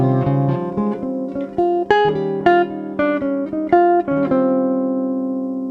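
A jazz guitar plays a bebop-style single-note line mixing scale runs and chord extensions, a steady stream of clear plucked notes in a flowing rhythm, close and alone, ending on a ringing sustained note.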